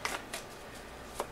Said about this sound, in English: So I'll also be shuffling on camera now